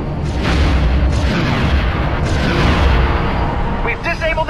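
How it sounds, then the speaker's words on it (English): Ion guns fire at a transport in Star Wars Rogue Squadron III: Rebel Strike amid loud, booming rumbles and blasts of space combat, with heavy low-end bursts throughout and a short series of rapid electronic pulses at the end. "I need to use my ion guns."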